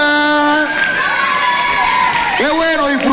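Crowd at a children's day celebration in a neighborhood parish, cheering, whooping and shouting loudly, with children's high voices rising and falling throughout; little distinct clapping stands out.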